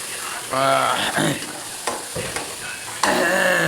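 Mashed eggplant bharta sizzles loudly in a pan as a spoon stirs it, with several close scraping strokes over a steady fry and no speech.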